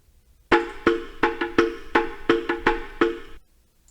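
Looped drum sample playing in FL Studio: a steady groove of punchy, close hits, about eight strikes in a rhythmic pattern that lasts roughly three seconds, then stops, with no voices.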